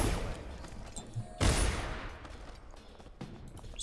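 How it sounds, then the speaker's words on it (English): Gunfire in the stealth game Dishonored, a few scattered shots at moderate distance, the loudest burst sharp and booming, set against low background game ambience without talking. "Stop shooting at me."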